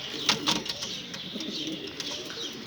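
Soft coos from a coop of Bango pigeons repeat a few times over a steady low background murmur, fairly close, with no talking.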